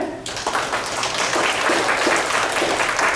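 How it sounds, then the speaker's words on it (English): Audience members at a performance in the Orange Senior Center clap for Heather, a dense, close round of applause that starts abruptly and continues steadily for about three seconds. "can we give a round of applause for Heather?"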